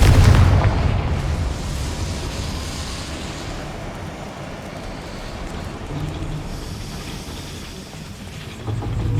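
A Confringo fire spell blasts in the video game Hogwarts Legacy, a loud booming explosion at the start that rolls into a long rumbling decay.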